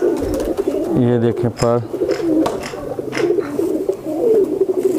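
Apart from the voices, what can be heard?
chhatri (fantail) pigeon cooing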